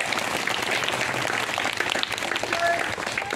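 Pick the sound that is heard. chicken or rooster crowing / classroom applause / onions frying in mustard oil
classroom applause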